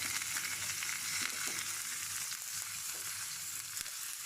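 Bass fillets searing in butter and olive oil in a hot pan, giving off a dense, continuous, close sizzle with no talking.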